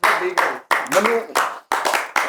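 Audience clapping in short bursts on a Punjabi comedy talk show, rising and stopping several times, with voices mixed in among the claps.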